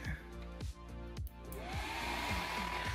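A computer cooling fan on a freshly powered motherboard whirs loudly and close. It stutters through a few brief dips before spinning up into a steady, rising whine.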